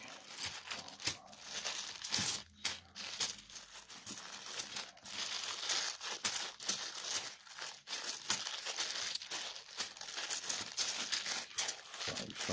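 Coins from a bank bag, £2 pieces, clink and jingle in repeated close metallic bursts as they are poured and sorted by hand, fairly quiet with no speech.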